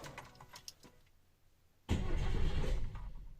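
A Polish Fiat 125p starting after years of standing: quiet clicks and fumbling come first, then the engine catches abruptly and runs loud and close, settling slightly toward the end.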